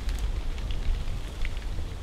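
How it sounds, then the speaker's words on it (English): Steady rain patters and hisses continuously at an outdoor disc golf event at Øverås on a windy, cold day, with a low windy rumble underneath and no voices. "Windy, rainy, cold."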